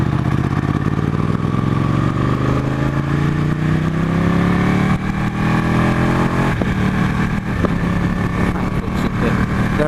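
A 2015 Ducati 899 Panigale engine roars loudly and close while riding, pitch climbing steadily through the revs with a rough, continuous exhaust note and wind rush.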